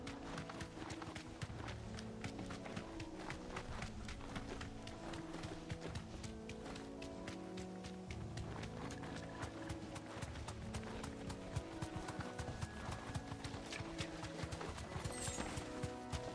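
Horse hooves gallop in a video game, a rapid, continuous clip-clop rhythm that keeps up steadily throughout, close and clear, with no talk.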